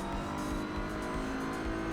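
GT3 race car in the Assetto Corsa Evo video game, a loud sustained engine drone at high revs with a steady pulsing rhythm and faint tire noise underneath.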